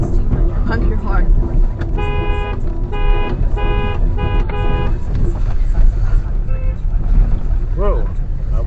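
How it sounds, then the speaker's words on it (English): A car horn honks in a rapid series of short beeps over loud road and engine rumble on an icy hill, with a voice talking throughout. "Honk your horn."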